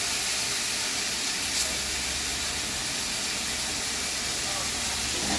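Fried fish are added to a kadai, giving a constant, even, moderately loud hiss of sizzling oil with no pauses.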